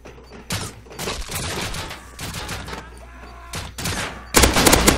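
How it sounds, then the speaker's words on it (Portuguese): Rapid bursts of gunfire ring out in the survival video game Rust, with repeated volleys of shots layered into dense clusters and a loud final barrage at the end. "Quem tá atirando?"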